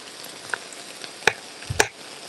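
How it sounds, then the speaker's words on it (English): Vegetables sizzle and steam in a pan after a splash of water, a soft continuous frying hiss broken by two sharp clattering knocks near the end. "add just a little bit of water so the vegetables start the whole process of steaming,"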